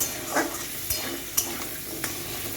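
Potatoes being stirred in hot oil in a pan, a short stretch of steady sizzling broken by several quick spatula scrapes and taps, close and fairly quiet.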